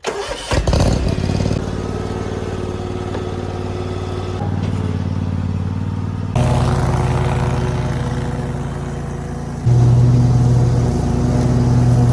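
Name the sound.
finish mower mowing a clover food plot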